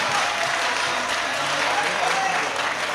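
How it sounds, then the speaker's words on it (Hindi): Steady, dense audience applause at a poetry recital, holding even and moderately loud throughout the short stretch. "जरा तालियां बजाकर उनका हौसला बढ़ाए"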